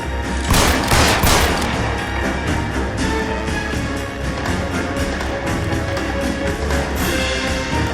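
Sustained gunfire in L.A. Noire during a police standoff, a dense rapid rattle of shots with a heavy burst near the start, continuing steadily over a loud rumbling backdrop.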